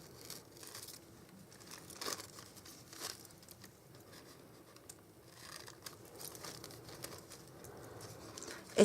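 Scissors cutting out a paper decoration for a Christmas candle, soft crinkling snips and paper rustles close by, quiet and irregular throughout, with no talking.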